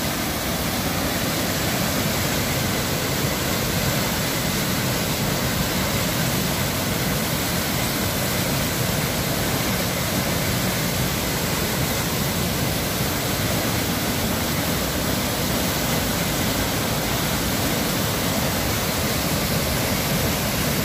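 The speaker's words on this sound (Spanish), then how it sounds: "El agua baja con muchísima fuerza." Floodwater of the swollen Serpis river between Villalonga and Beniflá roaring over a dam, a dense, steady, loud rush filling the whole clip without pause or voices.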